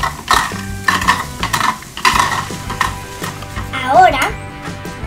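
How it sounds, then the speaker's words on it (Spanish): Plastic toy play-kitchen food stirred slowly in a toy pot, producing light rhythmic clicking and scraping strokes close up while a person speaks over it. "Y ahora a batir lentamente."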